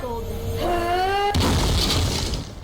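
A rising tonal shriek cut off by a loud crashing blast, followed by a noisy rumbling burst of shattering game explosions.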